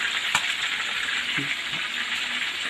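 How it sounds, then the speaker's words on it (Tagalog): Sisig frying in a pan, giving a steady, close sizzle with a few faint clicks and scrapes and no voices. "Ayan, piniprito ko na."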